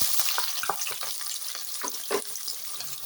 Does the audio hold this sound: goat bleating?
no